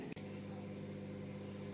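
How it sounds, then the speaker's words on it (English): Low steady hum of a running microwave oven heating a large jacket potato, a constant drone with a brief click at the start. "now I just pop it in the microwave"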